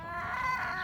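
Hens clucking near a small hen house, a short burst of close, steady clucking with harmonic calls, no talk over it.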